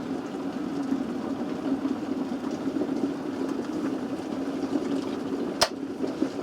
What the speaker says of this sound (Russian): Началось активное кипение.